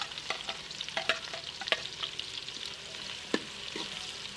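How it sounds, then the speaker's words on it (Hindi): Onions frying in hot ghee in a pan, a faint steady sizzle with occasional soft crackles and stirring clicks, no voices. "घी गर्म हो गया तो प्याज डाल देंगे।"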